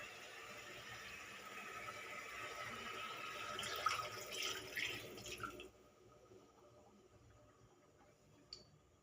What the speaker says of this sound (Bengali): এরপর মিক্সিং বলে মশলা ধোয়া জলটা আমরা এর মধ্যে অ্যাড করে দেব।